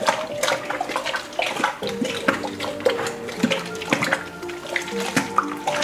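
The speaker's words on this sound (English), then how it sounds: "Just gonna vigorously stir this mash," Beer mash is stirred vigorously with water in a brewing vessel, producing continuous sloshing and splashing with choppy, irregular swirls close at hand.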